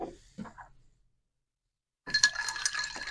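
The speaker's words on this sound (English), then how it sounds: "Now I'm going to stir this" Ice clinks and rattles in a glass as a blood orange paloma is stirred, a steady jumble of bright chinks after a quiet pause with a few soft knocks.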